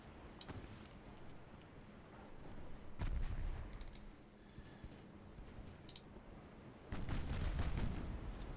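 Deep booming gunfire in the naval game DIP, several heavy blasts spaced apart with rumbling low end and some faint clicking in between.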